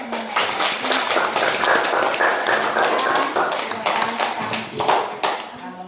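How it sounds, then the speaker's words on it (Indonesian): Children in an Indonesian classroom clap their hands together in a steady, fairly loud burst of rhythmic claps, with voices chattering underneath. "kita kasih tepuk tangan dulu"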